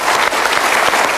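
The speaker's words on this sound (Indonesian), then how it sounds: "kita berikan tepuk tangan dia." A studio audience applauds loudly in a short, dense burst of clapping, with no talking over it.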